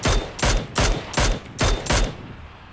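Gunfire in the video game PUBG: six loud, sharp bursts of shots in fairly even succession, each ringing out briefly before the next, with no talking.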